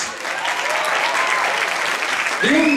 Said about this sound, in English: A round of applause, please, for Tom Willis in the box